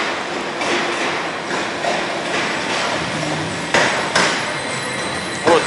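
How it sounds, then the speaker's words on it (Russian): Tram in Volgograd pulling in and departing on a neighbouring line, a broad rolling rumble with a few sharp metallic clanks from the rails, heard from a platform with little talk. "Вот на соседнюю линию прибыл трамвай и отправился."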